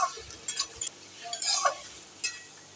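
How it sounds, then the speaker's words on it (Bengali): Onions and chilies fry in oil in a pan, heard as soft, intermittent sizzling bursts and light scraping stirs, close and fairly quiet. "এখানে আমি পেঁয়াজগুলো আর লঙ্কা তেলের মধ্যে ছেড়ে দিলাম। তো আমার এখানে পেঁয়াজ আর লঙ্কা খুব ভালোভাবে আমি ভেজে নেব।"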